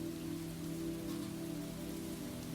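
Gentle rain falls steadily on a warm porch, a soft, even patter with a low hum beneath it that continues without a break.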